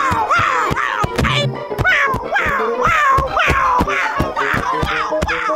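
A cat in a cartoon fairy tale, trapped in a sack, gives a rapid series of whining meows, about a dozen rising and falling cries in a steady rhythm, mixed with thumps and knocks.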